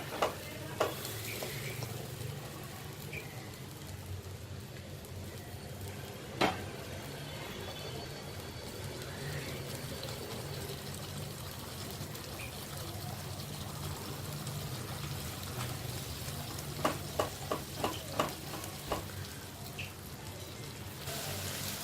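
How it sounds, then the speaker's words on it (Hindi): Tomatoes fry in oil for an aloo matar gravy, a faint steady sizzle in a pan with a few sharp clinks of a spoon stirring, quiet and close, mostly without talk. "अब जब हम टमाटर डालते हैं तो इसे अच्छे से भूनना है"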